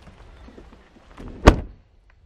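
A single heavy thunk as the door of a Bobcat 825 is slammed shut, sharp and close, following a brief rustle, then quiet.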